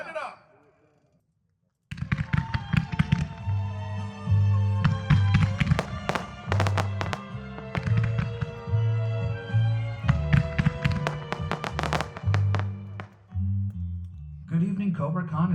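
Professional fireworks fired with an iShot plug-and-fire system at a Cobra-Con 2025 demo by Spirit of '76 and the 76 Pro line, a loud rapid barrage of cracking bursts and booming thumps after a short quiet lull.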